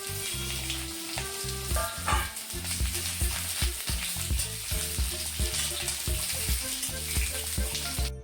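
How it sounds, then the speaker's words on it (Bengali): Food frying on a home stove, a continuous hiss of sizzling under a dense layer of stirring, clattering and other kitchen sounds across the whole stretch. "আর আমি এদিকে রান্নাটা চাপিয়ে দিলাম"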